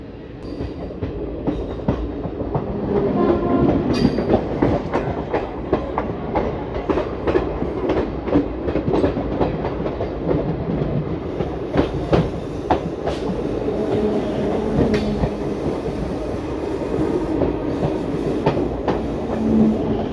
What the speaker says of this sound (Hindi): निकल चुकी है ट्रेन सब्जी मंडी रेलवे स्टेशन से।